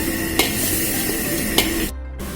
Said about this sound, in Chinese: 然后下入炸好的大虾，翻炒均匀即可。